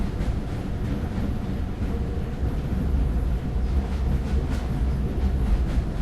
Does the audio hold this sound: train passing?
yes